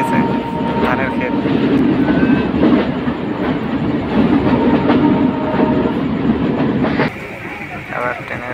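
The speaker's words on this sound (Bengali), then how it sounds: "ইঞ্জিন চালিত মানে ডিজেল চালিত ট্রেন আর কি।" Diesel-powered train on a Bangladesh Railway line past rice fields, heard from inside: a steady, loud rumble of wheels on rails with faint clicks and murmuring voices, the tone shifting slightly near the end.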